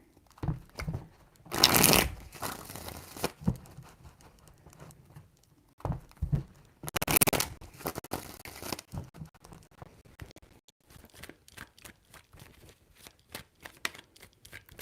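Tarot cards shuffled by hand in a few separate bursts of dry riffling and patter, each loud and close, with quieter handling and light rustling between them.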